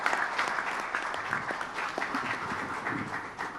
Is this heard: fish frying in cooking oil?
no